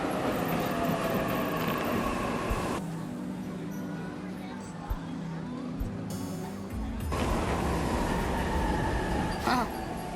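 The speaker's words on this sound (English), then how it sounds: "Train's already here." Train pulling into a station in the video game 13 Sentinels, a steady loud rumble and rolling rail noise that drops midway as the train slows and then swells again, with a few brief clanks near the end.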